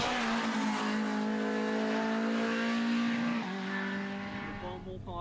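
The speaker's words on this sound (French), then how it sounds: "Tom s'impose au volant de la Clio 3 Cup avec brio" A Renault Clio 3 Cup rally car races past on a production-series rally stage, its engine holding a loud, strained high-revving note that drops briefly with a gear change and fades as it moves away.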